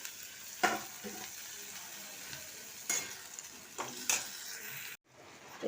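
Broccoli curry masala with gram paste is sautéed in a pan, giving a low steady sizzle broken by a few scraping stirs, then a sudden near-silent drop before the sound returns at the end.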